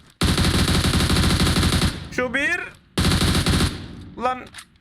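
Rapid automatic gunfire from the shooter game One Man Squad rattles in two long, loud bursts, each followed by a short rising electronic whine, with no talk over it.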